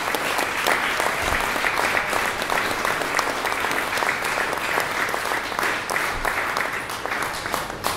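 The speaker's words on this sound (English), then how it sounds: "a round of applause for Debbie" A wedding reception crowd applauds a guest, dense clapping from many hands that stays loud and constant without a break, with no talking on top.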